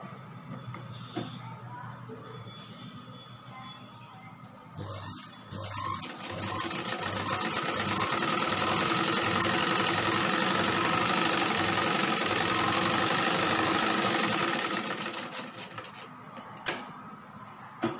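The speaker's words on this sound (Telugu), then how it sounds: "ఇప్పుడు ఈ లైన్ మీద కుట్టుకుంటూ వద్దాము" A sewing machine runs steadily for about ten seconds while stitching a design on a blouse sleeve, a close mechanical whirring and rattle that starts after a quieter lead-in and stops near the end.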